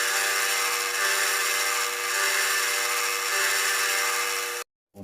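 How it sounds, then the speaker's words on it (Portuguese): Milling cutter opening an oblong slot in metal, a steady loud tonal whine of the machine cutting continuously before stopping abruptly near the end. "Agora a gente passa uma fresa para abrir o rasgo."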